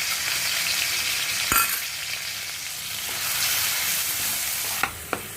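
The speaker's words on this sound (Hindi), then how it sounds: "रिमेनिंग ऑयल में। प्याज को गोल्डन ब्राउन होने तक भूनेंगे।" Onions fry in leftover oil for Lahori chicken, giving a close, steady hissing sizzle with a few sharp stirring clicks and scrapes near the start and end.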